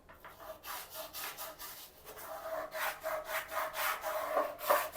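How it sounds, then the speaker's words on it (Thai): A brush scrubs a bathroom floor with VIXOL POWER cleaner in quick, repeated scratchy strokes, steady and close, building in intensity, with no voices. "ลองเอาแปรงมาขัด"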